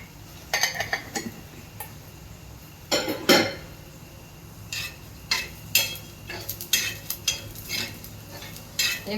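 Onions roasting in a pan over a village-style cooking fire, with frequent metallic clinks and scrapes of a utensil stirring against the pan over a low steady background hum.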